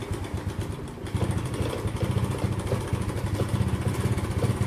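An old Honda motorcycle engine catches and keeps running, with a steady, close, throbbing idle and a slight rise in revs about a second in, with no talk.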